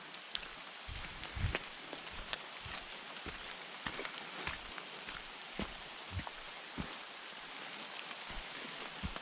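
Rain falls steadily through thick New Zealand bush, a soft continuous patter with scattered sharper drops striking leaves close by, quiet and alone with no voices.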